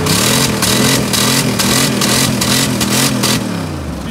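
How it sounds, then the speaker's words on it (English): A loud, rough Dodge Durango SUV engine with an exhaust leak revs and burbles up close, its raspy exhaust crackling and pulsing in rapid throbs, easing off slightly near the end. "She's got a good exhaust leak already."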